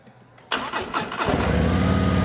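A 2026 Harley-Davidson CVO police motorcycle's engine cranks and fires up close by, catching with a loud burst and settling into a steady, throbbing idle with no one talking.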